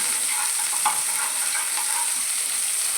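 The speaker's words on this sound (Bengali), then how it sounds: "এবার লবণ হলুদ দিয়ে ফুলকপি ভাজা হয়ে যাচ্ছে" Cauliflower frying in oil with salt and turmeric gives a steady, dense sizzle that is close and constant, with a faint stir or two and no voice.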